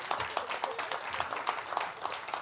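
Sparse, uneven clapping from a small audience at a talk on AI, a few pairs of hands beating roughly in time, moderately close, with no voices over it.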